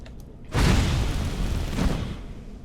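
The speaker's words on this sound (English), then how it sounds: "You're gonna jump at me and explode." A grenade spider explodes in Skyrim with one loud, sudden boom that keeps rumbling at length before it slowly fades, close and heavy, with no other sound over it.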